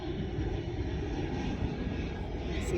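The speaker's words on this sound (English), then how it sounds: "there's a lot of planes that fly by this way" Airplane passing overhead near Columbia Point in Dorchester, a steady broadband engine roar that stays loud and even throughout, with no talk.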